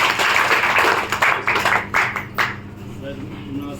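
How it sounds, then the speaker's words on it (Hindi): Audience clapping at a leaders' meeting in Haridwar, a dense burst of applause up front that thins into scattered claps and fades over a few seconds. "बहुत तालियां दो"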